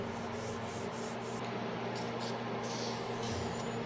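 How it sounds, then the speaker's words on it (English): Close, steady hand sanding of a wenge and birdseye maple keepsake box with fine grit, a continuous soft rasping rub under a low background hum, no voices. "Sanding, sanding, and more sanding, all the way down to 600 grit, inside and out"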